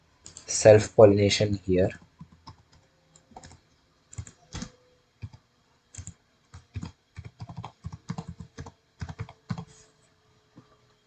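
Keys clatter on a computer keyboard in quick uneven bursts of soft clicks, close and clear, after a short spoken phrase at the start.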